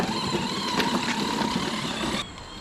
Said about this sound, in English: this is how the lawnmower's working today